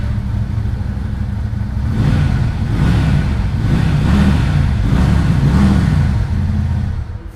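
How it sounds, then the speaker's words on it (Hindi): A Lifan V16S 250cc twin-cylinder cruiser motorcycle engine revs repeatedly in steady surges, deep and loud, with a rumbling low-end throb throughout and no voices. "लिफान का V16S जो कि 250 सीसी के साथ आता है लेकिन डबल सिलेंडर है, इसका साउंड बड़ा ज़बरदस्त है"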